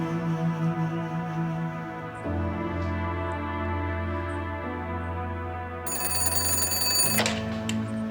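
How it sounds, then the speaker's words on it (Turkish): A telephone rings loudly in an indoor domestic setting, a repeated electronic bell tone in steady bursts, with a sharper, brighter ring layered in near the end and no speech over it. "Telefon."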